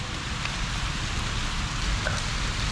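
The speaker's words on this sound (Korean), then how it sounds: "지금 비가 오, 비가 옵니다" Steady rain falls on Koh Samui island in the rainy season, a continuous even hiss with scattered drops, fairly close and unbroken, with no talk.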